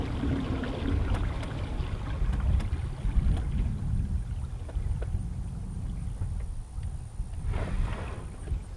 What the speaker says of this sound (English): we're going to use the boat to do it.